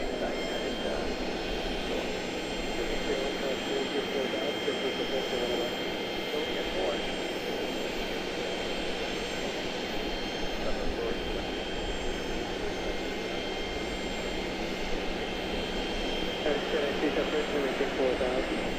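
American Airlines jet engines drone steadily at Charlotte airport, a broad continuous roar with a low hum beneath, while a voice talks over it throughout.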